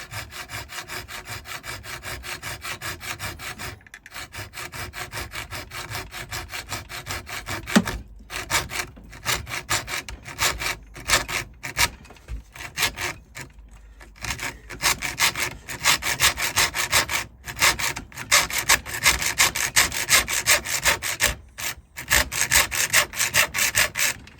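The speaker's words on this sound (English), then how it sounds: "I can hold the hacksaw blade against that side and then just cut through" Hacksaw cutting through brass tube by hand, with steady rhythmic back-and-forth strokes, close and clear, with a few short pauses between runs of strokes and no talking.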